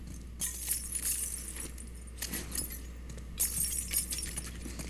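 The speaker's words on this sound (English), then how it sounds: "Tina, Jesus Christ, stop walking through broken glass." Footsteps crunching over broken glass in the video game The Last of Us Part II. Bright, gritty crunches come in several clustered bursts a few seconds apart over a low steady hum, close and moderately loud.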